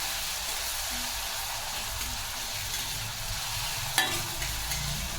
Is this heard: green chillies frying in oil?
yes